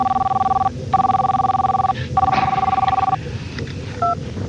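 An old-style telephone line gives steady dial-tone and ringing tones that start and stop in long pulses, broken by a brief higher double beep, heard over a busy background with some faint talking.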